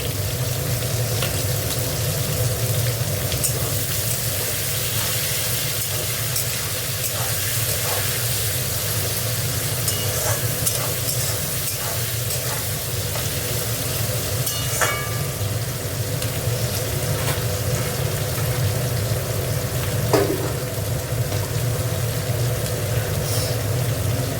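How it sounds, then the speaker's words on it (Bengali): Onions frying in a pan with salt, cooked as the base for an aar fish curry: a steady, even sizzling hiss that runs without a break, with a few faint clicks now and then and no talking. "পেঁয়াজটা ভাজা হয়ে গেছে"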